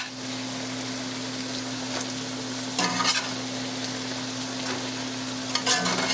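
Wild turkey meat hits softened vegetables in a hot stir-fry pan, giving a constant loud sizzle with a steady hum beneath and a couple of brief louder scrapes of stirring. No one speaks.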